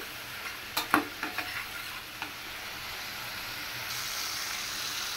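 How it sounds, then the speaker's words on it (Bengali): Spices stir-fried with prawns in a pan give a steady soft sizzle, with a few light utensil clinks near the start and no talking. "চিংড়ি মাছের সাথে মশলাটা আমি ভালো মতো কষাই নিলাম"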